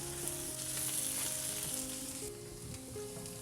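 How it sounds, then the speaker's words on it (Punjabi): Ivy gourd (kundru) sabzi frying with spices in a pan, a steady close sizzle with faint stirring scrapes, with no talking. "ਮਸਾਲਿਆਂ ਨੂੰ ਭੁੰਨਾਂਗੇ ਸਬਜ਼ੀ ਦੇ ਨਾਲ ਹੀ"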